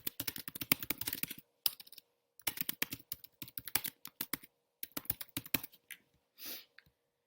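Computer keyboard keys clatter in quick, close bursts of typing, separated by short pauses, with a couple of isolated key presses near the end; no voices.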